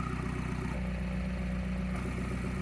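A Mini Cooper S F56 with a valved Remus exhaust idles with the valves closed, giving a steady, close, even low rumble with a faint mechanical clatter and no talking.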